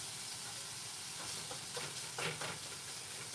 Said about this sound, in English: This is when I'm going to throw the veggies in. So I'm going to throw these green peppers.